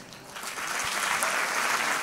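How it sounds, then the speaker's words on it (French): An audience applauds two musicians at a live concert, clapping swelling from moderate to full and steady over a couple of seconds. "Donc vous pouvez les applaudir"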